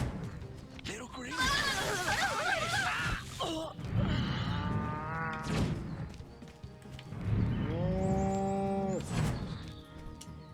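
Cattle mooing in the alien-invasion video game Destroy All Humans!, several long drawn-out lowing calls spread across the stretch, loud and close, mixed with game effects and voices.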